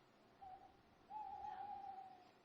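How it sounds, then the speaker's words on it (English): An owl's call used as a sound effect in a Macbeth audio drama: a faint, distant tonal hoot, one short note followed by a longer sustained one, heard alone against quiet background. "It was the owl that shrieked, the fatal bellman which gives the sterns good night."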